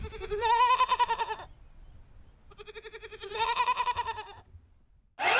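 Goats bleating inside a winter barn in Alaska: two long, wavering, close bleats with a pause between, and another call starting at the end.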